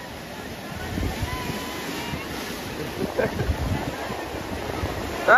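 Sea waves washing in at New Digha beach, a broad continuous rush of surf under gusty wind buffeting the microphone, with a few louder surges toward the end.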